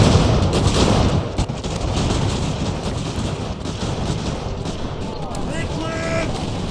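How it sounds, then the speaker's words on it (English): Cannon and canister fire in the video game Ultimate General rumbles as a continuous, dense roar of distant battle, with booming volleys blending into one another throughout. "Let's see if we can break these canister, or these cannon."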